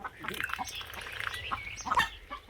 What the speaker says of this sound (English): I would say, son, that's one happy duck.